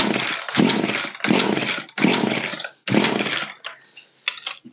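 A Poulan 3616 chainsaw engine is throttled in four loud, rasping revving bursts separated by brief drops, followed by a quieter sputtering tail, with no talk.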